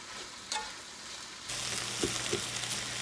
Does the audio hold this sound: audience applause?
no